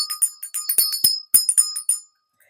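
A small money bell rings close and bright, a quick run of sharp metallic strikes in an uneven rhythm for about two seconds before fading to silence.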